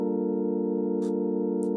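A synthesizer sustains a minor seventh chord with an added ninth, played in chord mode with exact stacked notes, holding steady and fairly loud throughout with no talking.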